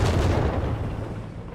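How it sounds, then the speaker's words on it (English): A heavy rocket artillery barrage in Company of Heroes 3 opens with a loud deep boom, then the rumbling blast slowly decays into a low roar. "dodging the massive rockets that go down"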